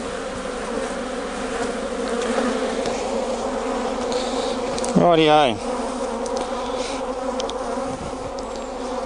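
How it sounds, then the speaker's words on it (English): Honey bees buzz in a dense, steady hum inside an opened, heavily populated Langstroth hive during an autumn inspection. A brief rising whine cuts through midway, and a voice speaks once. "It's packed with bees."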